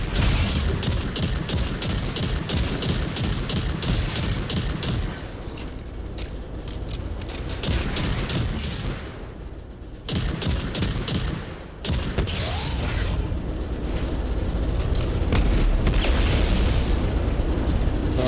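Grenades detonate in a video game, a dense run of booms and crackling bursts continuing for many seconds with brief lulls and layered game effects.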